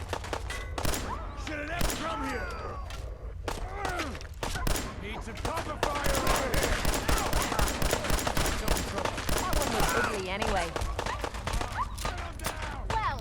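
Gunfire in the video game Fallout 4: repeated sharp shots and bursts crackle throughout, dense and loud, with a voice talking over much of the action.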